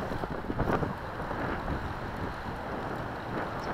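Steady wind rushes across the microphone outdoors while flying an FPV radio-controlled airplane, at a moderate level, a low continuous rumble with a slight gust near the start.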